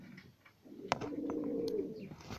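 Şebap diving pigeons from Adana coo nearby in a low throaty rolling call that swells and fades, with a few faint clicks and light rustles around them.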